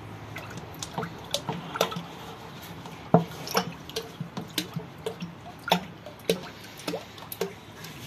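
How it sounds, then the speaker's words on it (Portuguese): Thick sulfonic acid splatters into a clean drum holding about 45 litres of water, heard as a close run of irregular drips and plops over several seconds with no voices. "A gente vai colocar ácido sulfônico."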